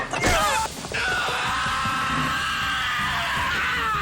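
A man screams loudly in a frantic, cartoonish outburst that breaks off briefly and then holds a sustained, strained cry with a noisy background underneath.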